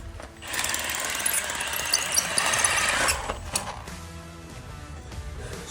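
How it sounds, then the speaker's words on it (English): A Milwaukee power drill with a 13-inch carbide masonry bit bores into concrete, a loud harsh grinding roar for about two and a half seconds that cuts off abruptly, leaving a quieter mechanical hum and room noise. "We have a carbide blade specifically designed for masonry work."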